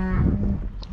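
Cattle on a farm, cows in heat, give a low, drawn-out moo close by, with a steady wind rumble underneath.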